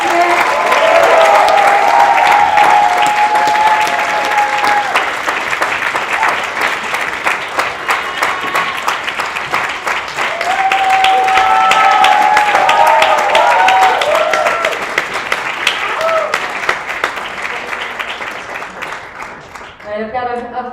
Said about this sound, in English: can we get one final round of applause for our amazing panelists here?